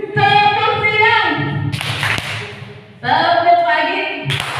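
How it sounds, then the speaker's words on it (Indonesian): A voice chants a short phrase, then a few sharp hand claps burst out, and the chant starts again before another clap at the end. "Tepuk siang,"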